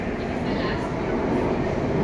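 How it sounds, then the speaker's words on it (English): A long-distance train to Kiama rumbles into a platform at Sydney Central station with a heavy, continuous roar and low rolling noise, loud and close throughout. "So here comes our train."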